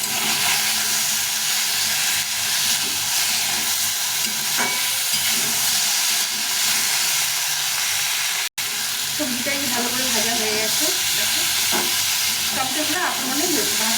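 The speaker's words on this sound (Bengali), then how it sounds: "আবার একটু ভালো করে ভেজে নেব" Tomato with salt fries in a pan, giving a loud, steady sizzle and hiss throughout, with occasional stirring scrapes.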